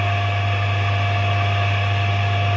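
A steady three-phase electric motor hum with a strong low drone and high whine, running continuously and close.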